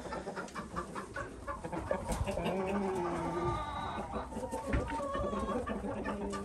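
Black hens that have just woken up cluck and murmur in a breeding pen, a steady, moderately loud jumble of clucks mixed with general farmyard noise.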